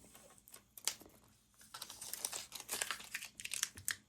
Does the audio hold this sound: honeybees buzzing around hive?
no